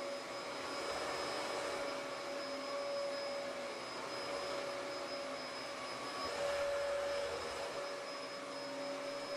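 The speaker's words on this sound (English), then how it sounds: "Notice how smooth the vacuum runs across the transition?" A vacuum cleaner runs steadily as it moves from carpet across a shimmed transition onto ceramic tile hard flooring, giving a continuous whining hum with a high steady tone and a slight swell partway through, heard alone.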